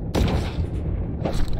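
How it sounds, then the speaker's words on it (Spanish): Gunfire in the underwater game Dave the Diver: a dense burst of loud, booming shots with a second volley near the end, continuous and close. "Disparando."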